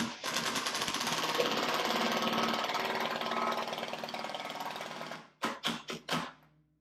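A power driver fitted with a T30 Torx bit runs a bolt on a Polaris General tree kicker install, whirring and rattling continuously for several seconds, then stopping for four short sharp bursts.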